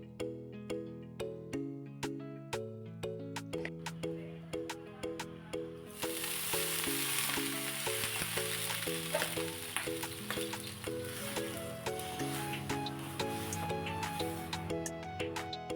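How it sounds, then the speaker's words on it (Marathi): Water sprinkled onto a hot oiled dosa griddle gives a sudden hissing sizzle midway that keeps going under steady background music. "तवा गरम झाल्यानंतर अगोदर थोडंसं त्यावरती तेल पसरून घेतलेलं आहे आणि त्यानंतर त्यावरती पाणी शिंपडले मी"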